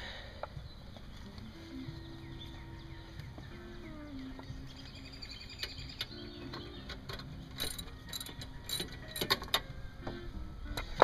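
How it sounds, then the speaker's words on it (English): A hand ratchet clicks in short, uneven bursts while wheel bolts are removed from a car during a DIY brake replacement, close and moderately loud against a faint background hum. "And just take the bolts off."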